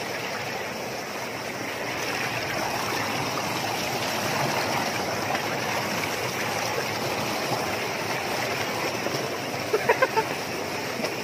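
Waterfall and stream at Mt. Romelo in Laguna, a steady broad rush of flowing water filling the whole scene, with a few faint clucks from a nearby chicken near the end.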